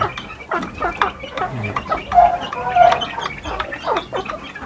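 Chickens cluck and chatter repeatedly at close range, with overlapping calls from several birds and some background farmyard noise.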